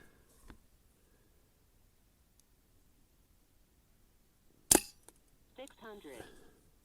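A Brocock Ranger XR .22 air rifle fires a JSB pellet with one sharp, close crack, followed by brief rustling and someone speaking; a faint earlier tap comes before it.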